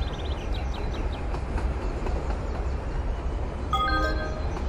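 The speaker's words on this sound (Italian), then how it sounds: "Treno in arrivo al binario 20." A train pulls into a platform at Genova Piazza Principe station, a steady low rumble and rolling wheel noise close by, with clicks along the rails and a few brief metallic squeals near the end.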